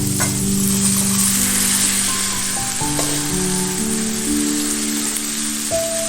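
Cauliflower pieces tossed into a pan with softened tomato and frying, making a steady crackling sizzle throughout, with sustained musical tones playing underneath.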